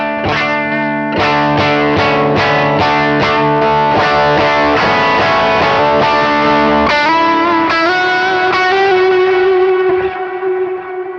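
Electric guitar on a Line 6 Helix '67 Vibe Luxe patch stepping through snapshots from clean to driven to lead, with rhythmic strummed chords giving way to sustained, gritty lead notes; loud and close with no talking.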